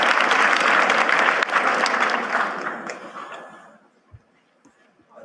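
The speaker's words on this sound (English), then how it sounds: "That was not a large applause." Audience applause, a steady wash of clapping that thins and fades out after a few seconds, leaving near silence.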